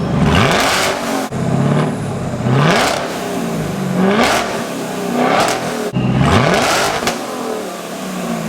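A powerful car engine revs repeatedly, each throttle blip sweeping up into a loud roar and falling back, several times in a row.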